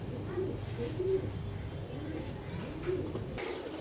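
Pigeons cooing in a loft, soft repeated low coos at a moderate distance over a steady background hum.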